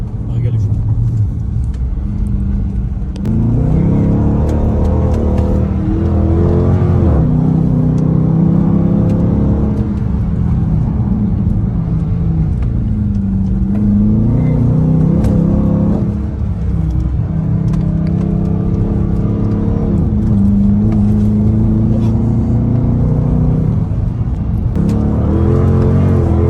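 A Dodge Charger R/T cruises on a Los Angeles road trip, its engine giving a loud, steady low rumble heard from inside the cabin. The pitch rises and falls with gear changes and throttle, while people talk throughout.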